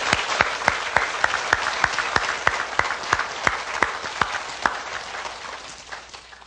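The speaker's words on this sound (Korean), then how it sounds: "하나님을 우리가 박수 한번 쳐서 영광을 드립니다" A Korean church congregation claps in praise to God during a sermon, a run of sharp, evenly spaced claps in unison, fairly close and steady, with a diffuse layer of scattered clapping behind.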